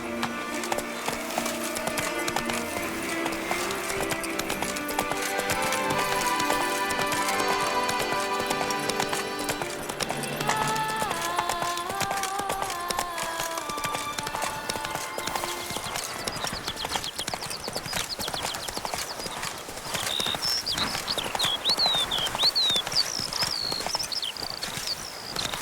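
A horse gallops in The Witcher 3, its quick rhythmic hoofbeats clip-clopping steadily alongside in-game music, with a brief whinny-like cry near the end.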